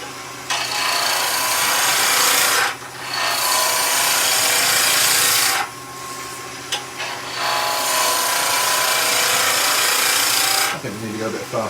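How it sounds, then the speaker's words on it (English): A skew chisel cuts wood on a lathe while Christmas tree decorations are being turned, giving loud, sustained rasping cuts in three long bursts separated by brief pauses. "Skew chisel, so I've raised the tool rest."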